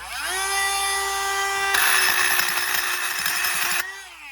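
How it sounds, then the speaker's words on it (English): A Dremel rotary tool whines at high speed while grinding rust off the front brake hardware of a 2012 GMC/Chevy truck, a steady buzzing tone that turns rougher and grittier midway as it bites into the metal, then winds down. "And we're gonna just take this Dremel."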